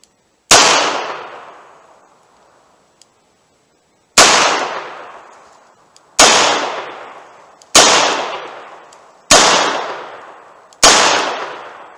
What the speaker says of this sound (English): I'm feeling ambitious, so I'll do some double action headshots, 7 yards.